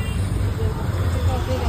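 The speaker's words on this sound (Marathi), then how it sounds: "गाईज कोलेगाव नाक्यावर ट्रॅफिक बघा." Traffic is jammed at Kolegaon junction, with buses and cars rumbling and idling close by and a general roadway din, while a person talks over it.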